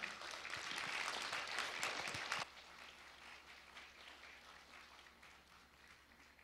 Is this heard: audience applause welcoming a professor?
yes